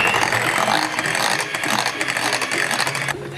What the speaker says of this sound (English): whisk them